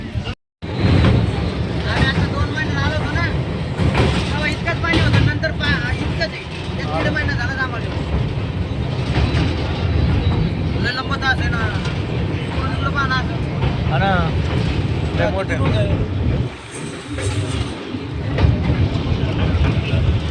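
Jhelum Express passenger train pulling away from Monera station, a loud steady rumble and rattle of the moving train that fills the whole stretch, with faint voices now and then.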